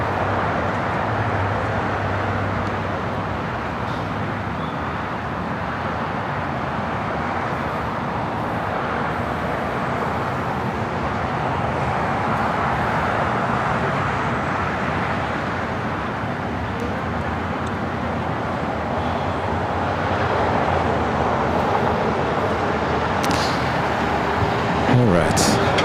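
A Southwest airliner on its takeoff roll from runway 25 right at LAX, a steady broad engine roar held at a constant level throughout with no talking.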